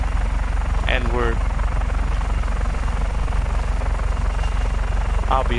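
A helicopter in Just Cause 3 flies at high speed near a volcanic coast, its steady rotor and engine drone loud and continuous throughout while someone talks over it.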